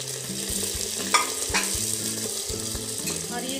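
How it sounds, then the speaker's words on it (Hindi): Chopped onions sizzle steadily in a handi pot, a loud continuous frying hiss broken by a few scraping stirs, with no voices. "अब इसमें मैं ओनियन डाल दे रही हूँ सारा"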